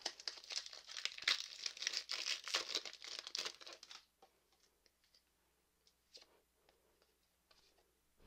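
A Pokémon card booster pack wrapper torn open, with loud close crinkling and ripping of foil for about four seconds, then a few faint rustles and clicks as cards are handled.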